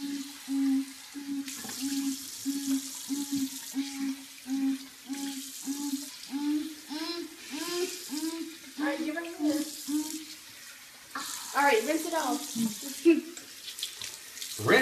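Water runs from a bathroom tap while shaving cream is rinsed off a boy's face, a steady close splashing flow under intermittent talking from a father and son.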